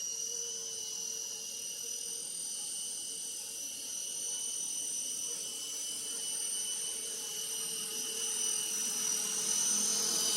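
RC Era C189 remote control helicopter hovering, a steady high-pitched rotor and motor whine that holds fairly even throughout, close by with no talking.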